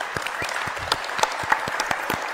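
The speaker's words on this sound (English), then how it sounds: "Guys, if you would give Kaeden Amerine a round of applause" Audience applause for a guest on a talk show, a steady wash of clapping hands with sharp individual claps standing out, moderately loud and continuous with no talk over it.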